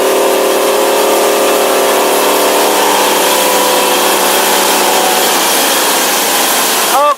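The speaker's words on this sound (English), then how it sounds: "Boat runs flawlessly." A 2005 Sea Ray 240 Sundeck motors across the water with its engine running in a loud, steady drone and heavy wind rush, continuous from start to finish.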